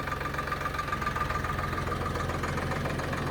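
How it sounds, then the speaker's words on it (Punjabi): A tractor's diesel engine idles steadily and low, with an even throbbing rhythm and a faint whine, continuous and close throughout. "ਜੰਬੀ ਬਾਈ ਵਾਲੇ ਟਰੈਕਟਰ ਦੀ ਹੋਣੀ ਆ ਸਰਵਿਸ"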